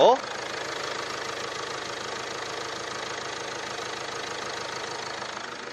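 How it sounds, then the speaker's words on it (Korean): A premium SUV's engine idles smoothly and steadily after a brief start, a low even hum with no voices. "바로 엔진 소리 한번 들려드릴게요"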